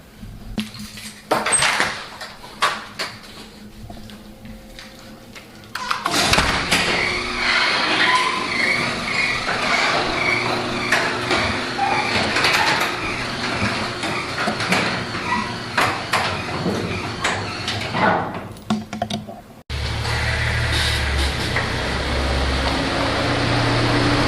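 A Nissan 370Z moves into a garage with engine rumble, shifting mechanical noises and clunks at close range, loudness jumping as the car gets going and settling into a steady run.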